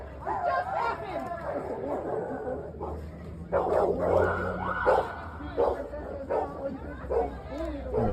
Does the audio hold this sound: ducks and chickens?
no